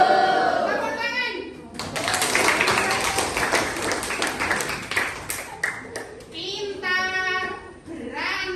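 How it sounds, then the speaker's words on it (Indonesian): A classroom of children claps hands together in a rhythmic burst of patterned clapping lasting several seconds, with children's voices chanting before and after it. "Tepuk tangan"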